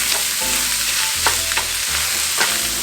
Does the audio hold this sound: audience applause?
no